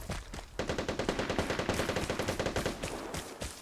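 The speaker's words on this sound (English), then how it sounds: "somebody with a Thompson kills somebody with a pistol" Thompson submachine gun firing in the video game Vigor: a long sustained automatic burst of rapid, evenly spaced shots, loud and close, with a short pause before the stream starts and a brief gap near the end.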